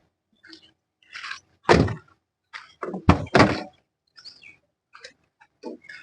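Rear door of a 2017 Toyota Etios GD diesel car shut several times, giving loud, close thunks with short quieter clicks and handling noises between them.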